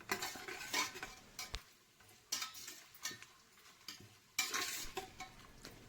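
Masala being stirred in hot oil in a pan for a pressure-cooker chicken pulao, giving soft scraping and clinking spoon strokes over a faint sizzle, with louder bursts of stirring at intervals.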